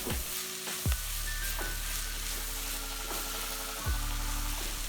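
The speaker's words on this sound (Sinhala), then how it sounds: "ලිප මධ්‍යම ගින්දරේ තියාගෙන ලුණු ටික හොඳින් මලව ගන්න ඕනි" Onions and Maldive fish frying in a pan over medium heat for seeni sambol, a steady close sizzle with occasional stirring clatter, no talking.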